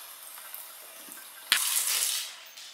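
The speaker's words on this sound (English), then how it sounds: "Now let's do 50 grams of warm water." Warm water pours briefly into a sourdough starter of all-purpose flour, a short soft splash and trickle lasting about a second against quiet room tone.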